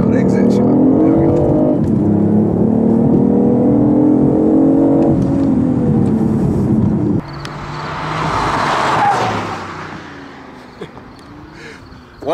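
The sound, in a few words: BMW i8 hybrid accelerating on racetrack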